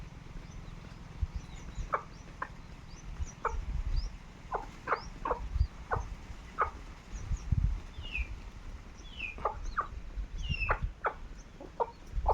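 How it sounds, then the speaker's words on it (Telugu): Country chickens on a rural farm give a steady stream of clucks and short calls, with a few sharper squawks, scattered over about twelve seconds against a low outdoor background. "మన దగ్గర అయితే ఇవన్నీ కోళ్ళు ఉన్నాయి."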